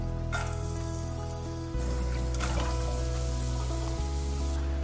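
Garlic sizzling in olive oil in a pan for pasta sauce, a steady loud frying hiss running throughout with faint background hum, no talk.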